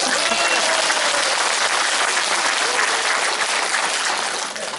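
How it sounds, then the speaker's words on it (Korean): Audience applause at a political constituency report meeting, a dense, loud burst of many hands clapping together that holds steady and then tapers slightly at the end. "박수 치려면 확실하게 박수 한번 치세요."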